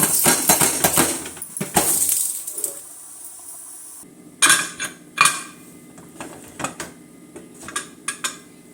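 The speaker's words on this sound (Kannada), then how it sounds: "ಕುಕ್ಕರ್ ಕ್ಲೋಸ್ ಮಾಡ್ತಾ ಇದ್ದೀನಿ." A pressure cooker lid is shut over mutton saaru with loud metallic clanks, scrapes and clinks up close. A dense rattle comes first, then scattered sharp knocks and clicks as the lid locks into place.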